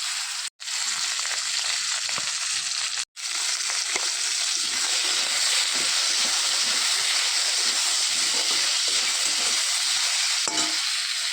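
Nigella seeds and potatoes hit hot oil in a pan and sizzle loudly and steadily. The sizzling is close and continuous, with two brief dropouts near the start and no talking.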